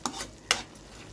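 Besan being stirred into boiling liquid in a pan for zunka: two brief scraping, splashing strokes about half a second apart over a faint background, close and quiet.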